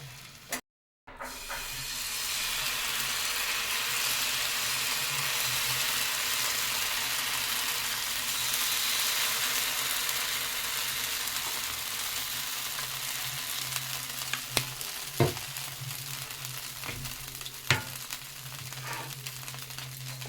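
Patishapta, a Bengali rolled pancake, fries in ghee in a pan with a steady, even sizzle that holds for the whole stretch, broken now and then by faint clicks and light stirring scrapes near the end.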